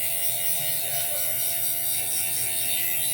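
An Andis Revite hair clipper runs steadily and loudly up close, giving a rough, rattling, bulldozer-like mechanical buzz with constant hum tones for the whole stretch, with no talking.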